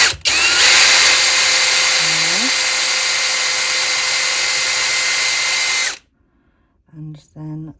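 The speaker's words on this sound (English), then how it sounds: "I'm going to do the same again with the drill, and drill in 2 holes" A loud, steady high-pitched electric drill whirs continuously for about six seconds drilling holes in resin, then stops, followed by two short bursts of quieter sound.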